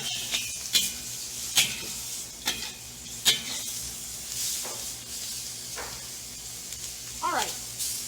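Shrimp stir-fry in a wok for pad thai, with a soft continuous sizzle and a few sharp scrapes and clinks of a spatula against the pan at irregular intervals, fairly close and quiet.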